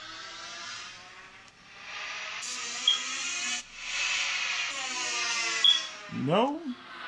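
A song played through the loudspeaker of an HTC One phone on Sprint, thin and slightly distant-sounding music with a steady sustained texture and a short swooping sound near the end.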